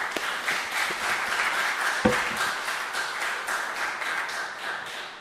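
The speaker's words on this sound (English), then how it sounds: "you can clap first. Let's do that." Audience clapping after a conference talk on confidential computing, a steady, moderately loud patter of many hands filling the room for about five seconds, with one sharper clap standing out near the middle.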